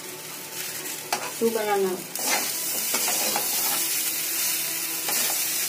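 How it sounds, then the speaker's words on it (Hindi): Vegetable curry sizzles and hisses steadily in a pan while a spoon scrapes and stirs it, close up; someone speaks briefly near the start. "अब थोड़ी देर के बाद चला रही हूँ, जल गया सब्जी।"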